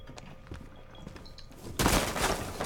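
Gunfire in the video game Rainbow Six Siege, a burst of rapid shots that grows louder and denser near the end of the short stretch, over faint background game noise.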